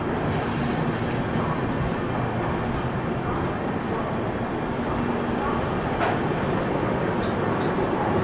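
The West Bengal Sampark Kranti express pulls out of the station with a loud, continuous rumble and clatter of rolling rail cars, a brief sharp squeal standing out partway through.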